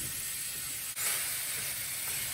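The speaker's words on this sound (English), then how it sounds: "add your ground beef to a large cast iron or oven safe skillet over medium-high heat" Ground beef sizzles in a hot cast iron skillet over medium-high heat, giving a steady, bright hiss with a soft crackle that holds evenly throughout, up close and with no talking.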